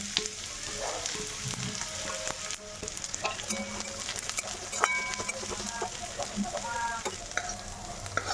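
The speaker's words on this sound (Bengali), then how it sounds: "পেঁয়াজ একটু ভেজে নেবো এখানে একটা পেঁয়াজ আছে" Onion frying in a kadai on a home kitchen stove, a steady soft sizzle with occasional stirring scrapes and faint clinks running throughout, with birds or chickens calling now and then in the background.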